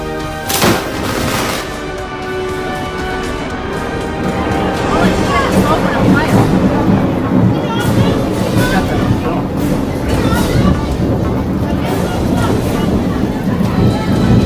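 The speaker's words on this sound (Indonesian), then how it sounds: "Petir mengerikan itu tiba-tiba menyambar sebuah tiang kapal yang ada di pelabuhan." Lightning strikes a ship's mast at a harbor, a sharp loud crack followed by a sustained roaring rumble of thunder and wind, with people's voices shouting beneath.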